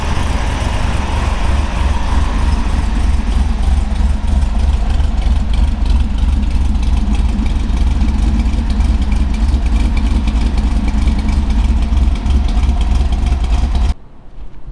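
A 1969 Chevrolet Nova SS with a 396 L78 V8 (375 hp, four-speed) idles while still cold, a loud, steady, rumbling low drone that holds throughout before cutting off near the end.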